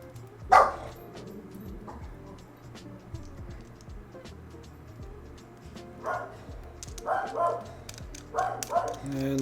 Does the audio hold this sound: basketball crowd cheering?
no